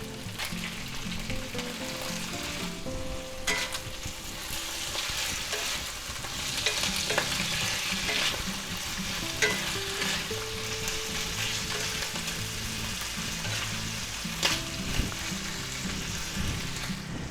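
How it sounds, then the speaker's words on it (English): Shiitake mushrooms stir-frying in a pan of pork lo mein with vegetables, a steady close sizzle with clinks of stirring throughout, and no voices. "let's just go ahead and add our shiitake mushrooms"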